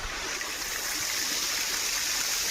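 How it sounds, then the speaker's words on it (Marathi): River water rushing steadily beneath a bridge, a continuous broadband wash of flowing stream noise, close and fairly loud throughout with no voices. "आता पाणी खालून चाललंय, मागं नदी आहे."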